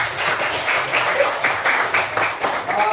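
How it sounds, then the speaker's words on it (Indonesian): A school class applauds together, a steady patter of many small hands with a faintly rhythmic, pulsing beat close by. "Tepuk tangan buat kalian semuanya"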